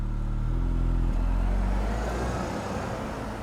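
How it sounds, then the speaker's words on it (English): An Audi A4 engine hums steadily at close range with a low droning whine, gradually fading slightly as it continues. "Some nice like engine whines going on."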